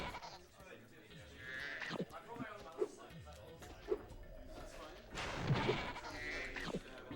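Sheep in the video game Spyro 2: Ripto's Rage bleat in a few short, faint calls beneath a person talking and quiet game sounds.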